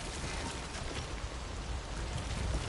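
Steady rain falls in the video game Death Stranding, a dense, even hiss of drops on surfaces that fills the clip with no voices.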